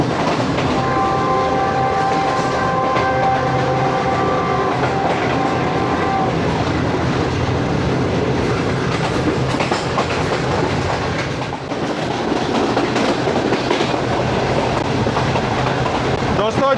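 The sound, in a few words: Shalimar Express train running on rails, Lahore route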